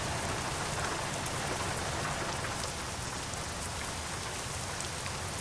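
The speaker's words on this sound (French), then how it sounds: "Donc là, c'est un orage, de la pluie." Heavy rain from a thunderstorm in the trucking game American Truck Simulator, a dense, even hiss of falling rain that holds steady throughout with no voices.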